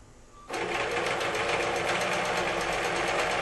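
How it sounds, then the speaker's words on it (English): A sewing machine starts up after a brief quiet moment and keeps stitching steadily around the edge of a quilt, its fast, even motor whir and needle chatter loud and close, with no talking. "So you just sew this all the way around your quilt"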